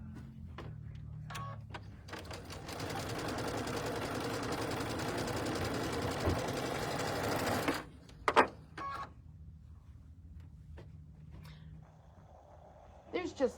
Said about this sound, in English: There's just lots of little stitching here today.